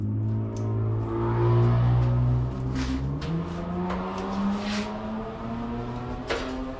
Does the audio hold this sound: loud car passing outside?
yes